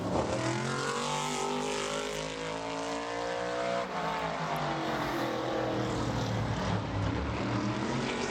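A modified race car from qualifying at Bowman Gray Stadium, Chris Fleming's Chevrolet, roars loudly and steadily out of turn four past the checkered flag, its engine pitch sweeping as it passes close by.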